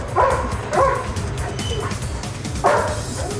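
A police dog barks in a few sharp, loud yips and woofs close by, spaced irregularly, with some background noise and little talk.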